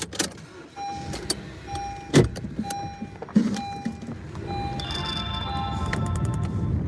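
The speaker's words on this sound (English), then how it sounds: "going to move my car real quick." A car being started and moved a short distance, with an engine hum, a power window motor and a few sharp clunks and clicks close by, then steady engine and road noise.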